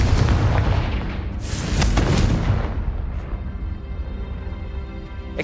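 A Confringo blasting spell from Hogwarts Legacy bursts with a heavy, booming explosion that fills the first few seconds and then rolls off into a long, rumbling decay with a faint lingering ring.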